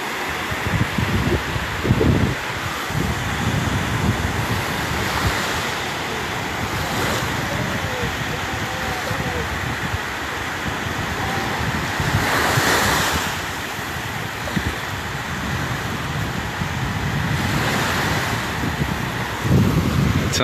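Ocean waves wash onto a foggy beach in repeated surges over steady wind buffeting the microphone, a continuous roar with periodic louder breaks.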